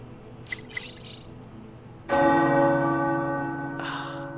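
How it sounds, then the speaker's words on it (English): In the video game Marvel's Midnight Suns, a large tower bell rings out with a loud strike, its rich tone lingering and slowly fading, followed by a second strike near the end; fainter chimes sound beforehand. "The tower bells are ringing."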